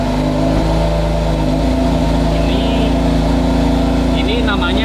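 A new car's engine runs at a steady, smooth low hum throughout, with a person talking over it inside the car.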